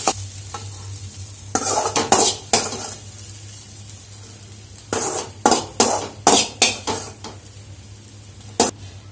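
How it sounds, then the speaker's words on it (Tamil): A fried egg stirred in a pan and moved into another vessel: bursts of spatula scraping and metal clatter over a low sizzle, with quiet gaps between, no talk. "முட்டை வந்து இப்ப நல்லா வறுத்தாச்சு. வேற பாத்திரத்துக்கு மாத்திடலாம்."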